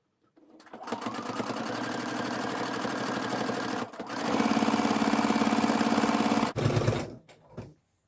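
Sewing machine stitching steadily through several thick layers of bias binding, a loud, close mechanical whir with a fast even rattle, pausing briefly near the middle, then resuming stronger before slowing to a stop.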